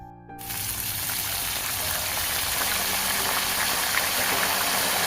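Sliced raw banana chips fry in hot oil as salt and turmeric water is sprinkled in, bursting into a loud, dense crackling sizzle after a brief quiet start and continuing steadily throughout.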